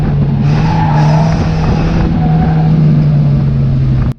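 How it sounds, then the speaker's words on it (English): Race car sliding wide through a bend on a short oval track, engine droning loud and close with a sustained low note, tires scrubbing under it before the sound cuts off. "as he goes to turn into the track shot bend, the car just slides out"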